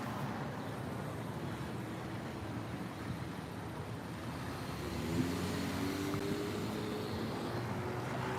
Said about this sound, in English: I hear a car coming up behind me right now